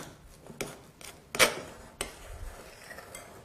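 A utensil stirring and scraping homemade shower gel with blue colorant in a bowl, giving scattered taps and clinks at close range, with one sharper knock in the middle and no talking.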